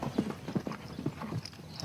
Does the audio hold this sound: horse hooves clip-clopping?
yes